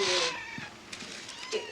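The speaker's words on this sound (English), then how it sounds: "look, a little kitten. From Beth." A small kitten gives a short, high meow close by, followed by faint softer sounds in a quiet room.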